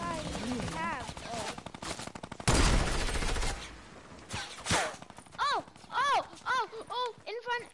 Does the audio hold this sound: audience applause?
no